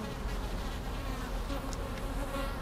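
A dense, steady buzzing of many honeybees fills the scene, continuous and close, with no voices.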